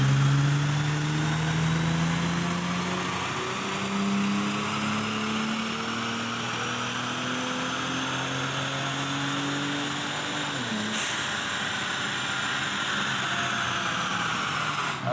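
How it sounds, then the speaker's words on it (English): A Ford Taurus SHO fitted with big turbos runs on a dyno in fourth gear, its engine note climbing steadily under heavy load with turbo whoosh, then a sharp shift-like break near the end, loud and continuous. "Now I'm gonna get it up into 4th gear and we'll see what happens."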